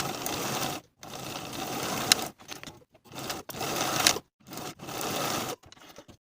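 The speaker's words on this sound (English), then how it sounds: "Sew the short edges with a 5/8 inch seam allowance" A sewing machine stitches the short edges of vest welt pieces with a 5/8 inch seam, running in steady whirring bursts separated by brief stops.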